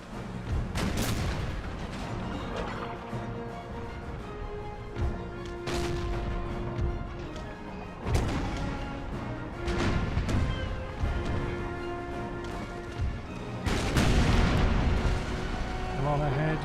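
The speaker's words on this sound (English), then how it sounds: "Another set of shots into those glorious masts." Naval cannon fire in Empire: Total War, with ships shooting at enemy masts, booms out in repeated heavy shots amid a low rumbling battle din, with someone talking over parts of it.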